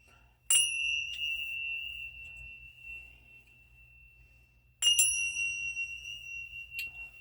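Two clear, ringing bell strikes in a video game sound a few seconds apart, each a bright chime with a long sustained tone, plus a brief third ding at the end.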